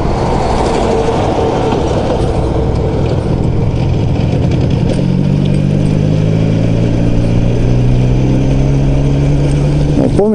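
An IZh motorcycle engine runs continuously while the bike is ridden slowly, producing a loud, steady, rumbling drone with rough wind-like noise close to the microphone throughout, and no one speaks.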